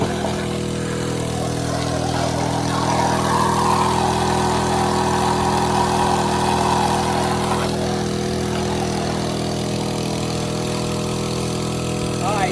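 A gas-powered 1-inch Apex Max Pro soft wash system runs without its nozzle, a steady close engine drone with constant rushing flow, unbroken for the whole stretch.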